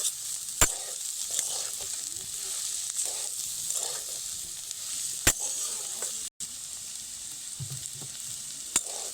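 Snake gourd with grated coconut is stirred often in a pan over very low heat, with soft scraping spatula strokes and a few sharp metallic clicks over a gentle, steady sizzle.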